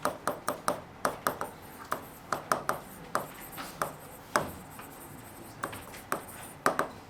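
A teacher writes a heading on a classroom board, making quiet, quick tapping and scratching strokes in an irregular rhythm with no talking.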